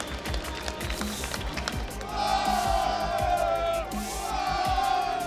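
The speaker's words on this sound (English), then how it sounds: "you can hear the fans cheering." Fans cheering when points are announced at a European championship bowling challenge, a crowd swelling into loud shouting and cheers in the middle of the clip over background noise.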